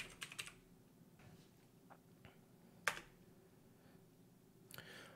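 Faint, scattered keystrokes on a computer keyboard while editing a file in a terminal text editor, with a few sharper clicks and short bursts of typing in a quiet room.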